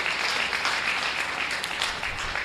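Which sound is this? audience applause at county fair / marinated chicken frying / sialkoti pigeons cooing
audience applause at county fair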